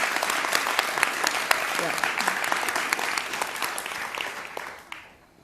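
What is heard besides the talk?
audience applause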